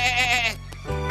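A sheep on a farm bleats, a wavering, strongly harmonic cry lasting about half a second, followed by a brief lower tonal sound.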